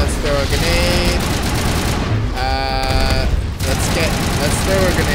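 Mass Effect video game combat: a thrown grenade and bursts of rapid automatic gunfire crackling steadily throughout, loud and close, mixed with buzzing electronic tones and game music.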